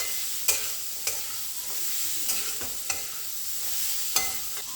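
Carrot bhaji with red chili chutney is stirred in a pan. A spoon scrapes and taps against the metal about six times at an even rhythm over a continuous close sizzle.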